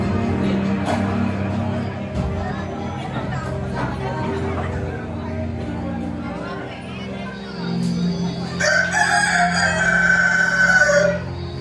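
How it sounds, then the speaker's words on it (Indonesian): A rooster crows loudly several times during a school stage drama of Sangkuriang, amid a busy crowd of chattering voices, with a shrill burst of crowing rising near the end. "berdengar ayam berkokok"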